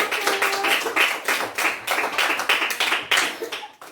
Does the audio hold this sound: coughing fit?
no